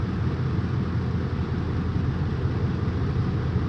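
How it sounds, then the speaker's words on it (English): Ford F-150 engine idling smoothly after a bad ignition coil was replaced, a steady low rumble held at an even level throughout with no misfire stumbles, close by and alone. "already we can see the engine no longer rocking like crazy"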